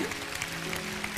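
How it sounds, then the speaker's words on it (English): Audience applause from a crowd at a motivational speaking event, a dense steady clatter of clapping filling the whole moment at even loudness, with faint voices mixed underneath. "So I thank you for your applause"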